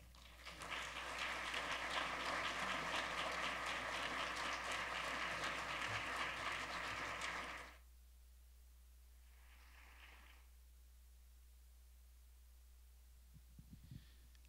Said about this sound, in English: How about one more round of applause for Dr. Robert Garland?